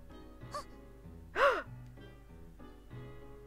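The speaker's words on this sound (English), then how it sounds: "She let out a loud gasp, as if she had just thought of something." A single sharp, breathy gasp from a female video game character in Exile Election, rising briefly and clearly above a quiet, sustained musical background, with smaller soft vocal sounds before it.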